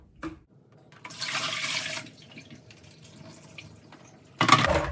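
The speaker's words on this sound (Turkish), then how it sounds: "Ilık suyla duruluyorum." Warm water runs over combs and brushes at a sink in a bathroom, a close gush lasting about a second, then a quieter trickle, followed by another loud burst of flow.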